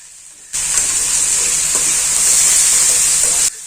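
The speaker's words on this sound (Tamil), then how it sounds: "காயெல்லாம் நம்ம அதுக்குள்ளே போட்டு எண்ணெயில் ஒரு 2 நிமிஷம் நல்லா வணக்கிக்கலாங்க" Potato and brinjal pieces sauté in hot oil for sambar, a loud continuous frying hiss that starts abruptly and cuts off just as suddenly, with light stirring scrapes throughout and no voices.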